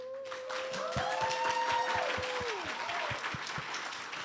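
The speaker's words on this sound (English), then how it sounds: "round of applause for our panelists" Audience applause for panelists at a media exhibition, a steady wash of clapping with sharp individual claps standing out, sustained for several seconds with a voice and tonal music sweeping through it.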